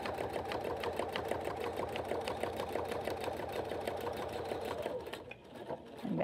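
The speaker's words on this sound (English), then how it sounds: "And I backstitch really securely at the beginning, because you're going to have a lot of stress along the upper edge there of your pocket." A sewing machine backstitches along the upper edge of a makeup bag pocket, a steady, fast, even chatter of stitches running near and fairly quiet, with a brief slowdown near the end and no speech.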